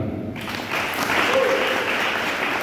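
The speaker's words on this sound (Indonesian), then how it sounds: "Kita tepuk tangan." Church congregation clapping after a prayer, a dense steady patter of hands that swells after a brief quieter start and continues at full strength with faint voices mixed in.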